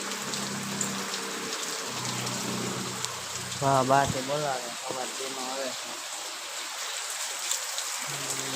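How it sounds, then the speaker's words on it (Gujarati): Steady rain pours down throughout, and a person speaks briefly partway through over the constant hiss of falling water. "વરસાદ મંડાણો છે"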